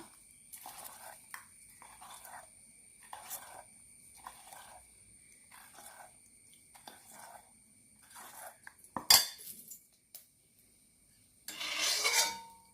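Soft, rhythmic scraping of a spoon through aval appam batter with added salt in a bowl, quiet strokes repeating about once a second, ending with a couple of louder clanks and a rustle.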